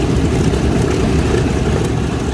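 Several B-25 bomber engines warm up together at an air show in Dallas, Texas, a loud, continuous low rumble with a rough, throbbing texture and no pauses or voices.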